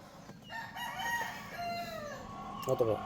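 A Boston Black rooster crows once, a clear rising-and-falling call close by, with other fowl clucking faintly in the background and a brief noisy burst at the end.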